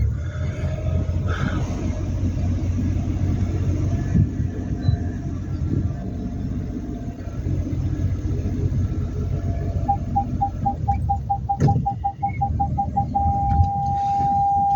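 A car maneuvering slowly during a parallel parking driving lesson gives a steady low engine rumble throughout, with a short run of rapid indicator-like ticks near the end.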